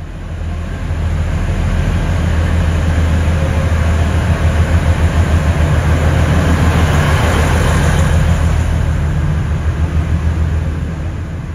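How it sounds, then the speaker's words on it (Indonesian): A constant low rumble of a moving airport train at Yogyakarta International Airport fills the cabin, steady and loud, with a rhythmic clatter of wheels on track building midway. "saat ini saya sudah berada di dalam kereta bandara YIA"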